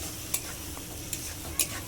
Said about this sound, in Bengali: মশলা খুব সুন্দর করে কষিয়ে নেব।